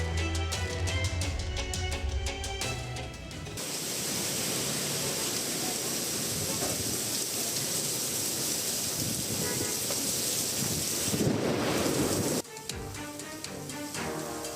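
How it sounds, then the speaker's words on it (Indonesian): Heavy rain and strong wind sweeping across East Jakarta on a Sunday afternoon, a steady broadband roar of downpour and gusts that holds loud and even for about nine seconds between bursts of music. "Hujan deras dan angin kencang melanda wilayah Jakarta Timur Minggu sore"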